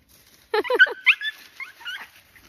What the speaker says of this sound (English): There goes the dogs chasing the rabbit.